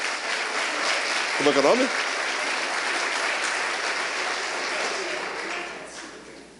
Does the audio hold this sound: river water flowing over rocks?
no